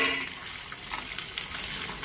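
Long green chillies cut into pieces frying in hot tempering oil with sesame and mustard seeds, a steady hissing sizzle heard up close with small crackles.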